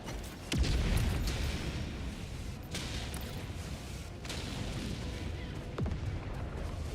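Orbital strike explosions in the video game Helldivers 2 on a high-difficulty mission, several sharp booming impacts spaced a second or two apart over a continuous rumbling battle din.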